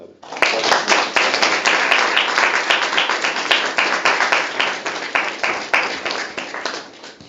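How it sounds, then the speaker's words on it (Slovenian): A church congregation applauds steadily for an older member, dense clapping from many hands filling the room for about seven seconds with a few voices and cheers mixed in. "Dajmo mu en aplavz."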